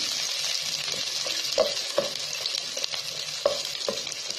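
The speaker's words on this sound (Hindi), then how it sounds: "प्याज डाल के मैं हल्का सा इसको सौते करूंगी, थोड़ी सी नरम हो जाती है।" Onions sizzle steadily in a hot pan while a spatula scrapes and taps now and then; no one speaks.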